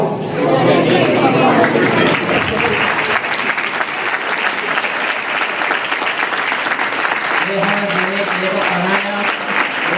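A church congregation at a Christmas celebration of Sant Sunder Lal Ministries claps loudly and continuously, a dense wash of hands with voices talking over it and a few sustained tones near the end.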